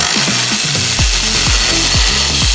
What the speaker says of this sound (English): Once I break it loose, I like to throw it on my power ratchet.